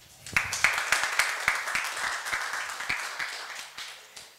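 A small crowd claps for several seconds, a dense patter of hands that starts abruptly and gradually thins out.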